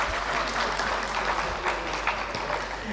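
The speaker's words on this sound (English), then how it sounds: "let's have a round of applause for yourself" Audience applause at the opening ceremony of an international conference on sustainability education, a continuous crowd clapping with scattered louder claps and faint background murmur.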